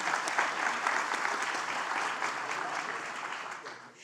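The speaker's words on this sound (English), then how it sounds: "Let's give Kim a round of applause." An audience applauding a speaker, sustained thick clapping from a large crowd with a faint voice underneath, gradually fading toward the end.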